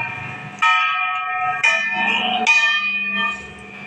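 A hand bell rung repeatedly around the rooms of a house, giving bright metallic strikes in three or four bursts with ringing overtones, fairly close and loud, no voices.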